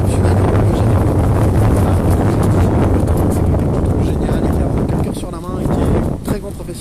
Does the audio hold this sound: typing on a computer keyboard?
no